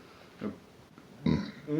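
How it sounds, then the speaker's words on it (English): A man lets out a couple of low, guttural burps after eating cheesy popcorn, short and fairly close, separated by a brief quiet gap. "burping up that damn cheesy popcorn I had earlier"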